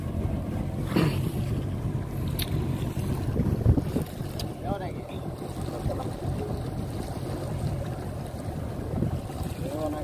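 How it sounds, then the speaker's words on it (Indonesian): A fishing boat's engine runs steadily at sea during a fish chase while light jigging, a continuous low rumble mixed with wind buffeting and water wash, with no speech. "sang kapten terpaksa menyalakan mesin untuk mengejar ikan"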